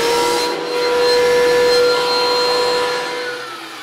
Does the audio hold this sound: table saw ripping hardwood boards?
yes